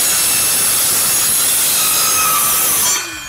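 A mini circular saw slices through 2-inch aluminum tubing with a loud, steady, high-pitched metallic whine for about three seconds, then the blade winds down and the cut ends.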